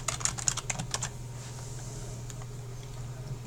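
Someone types a brief burst of keystrokes on a computer keyboard against a steady low hum, followed by a few scattered taps.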